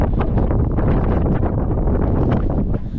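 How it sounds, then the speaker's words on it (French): Strong wind roars steadily across the microphone aboard a sailboat off Montserrat, a continuous loud buffeting rush with gusty rustling throughout. "il y a du vent"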